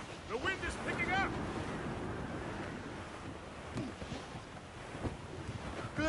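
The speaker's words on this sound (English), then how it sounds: "The wind is picking up!" Wind blows at sea aboard a sailing ship in the video game Assassin's Creed Rogue, a steady broadband rush mixed with surf and creaking, while voices shout briefly near the start.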